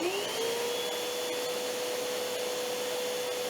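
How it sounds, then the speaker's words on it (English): A 12 amp vacuum cleaner runs steadily, its motor whine rising to a constant high pitch right at startup and then holding loud and close without a break. "So next we are going to test with this 12 amp vacuum."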